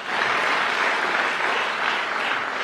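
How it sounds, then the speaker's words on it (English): A large audience applauds at the opening of the Bloomberg New Economy Forum in Singapore: dense, sustained clapping at steady volume throughout, with no voices over it. "And we want to make an applause for that"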